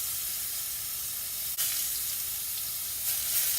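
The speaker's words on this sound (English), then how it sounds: "Put strips on your frying pan." Steady, soft sizzling of eggplant strips frying in a hot pan, a continuous crackling hiss with no voices.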